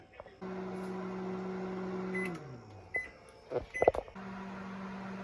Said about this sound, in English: We're gonna microwave it for just a second.